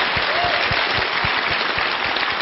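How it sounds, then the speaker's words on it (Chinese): Studio audience applauding on a Chinese television job-interview show, a dense steady wash of clapping that fills the whole stretch at even loudness, with rhythmic low thumps running beneath and no talk over it. "掌声应该再热烈一点嘛。"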